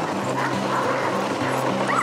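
Sled dogs bark and yip before a dog sled ride in the snow, a pack of excited animals yelping in quick overlapping bursts, steady and close throughout.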